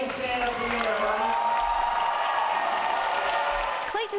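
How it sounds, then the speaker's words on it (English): A school audience claps and cheers for a student artist, a dense sustained roar of applause with whoops mixed in, loud and continuous, with voices blending into the crowd noise. "I want to give one more round of applause to Clayton."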